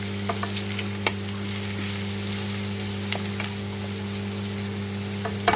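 Onion and capsicum with a few curry leaves fry in a pan, giving a steady low sizzle with occasional small crackles and pops, close and fairly quiet, with no voices.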